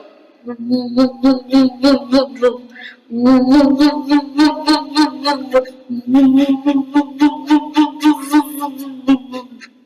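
A voice mimics a whirring mixer grinder grinding coconut in rapid pulsing bursts, three runs separated by short pauses, loud and close, at a school arts festival mimicry competition.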